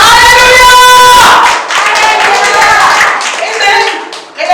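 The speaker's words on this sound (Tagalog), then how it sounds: "Palakpakan po natin ng Panginoon. Yung palakpak po na tagumpay!" A church congregation at a gospel service applauds in a burst of loud, dense clapping, mixed with raised voices and singing that carry on as the applause thins out.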